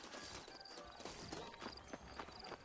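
Horse hooves clip-clop in the Red Dead Redemption video game, a quick, even run of close hoofbeats heard over a soft bed of game ambience.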